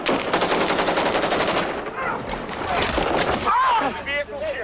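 Rapid automatic gunfire bursts from a 1994 township battle crossfire in Thokoza between Zulu fighters and ANC self-defense units, loud and continuous at first, then broken by scattered shots with shouting voices nearby.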